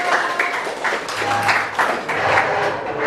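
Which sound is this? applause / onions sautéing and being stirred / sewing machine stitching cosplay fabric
applause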